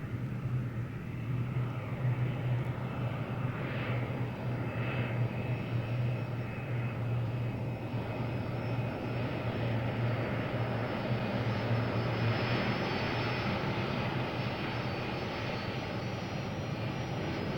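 Heavy Boeing 757 airliner roaring to a stop on a runway during a refused takeoff test, a steady, loud broadband engine and rolling rumble with a low hum, continuous throughout.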